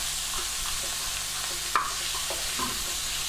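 Minced meat browning in a hot pan for curry puff filling, with a steady sizzle and a few light utensil scrapes, one sharper knock midway, close and without talk.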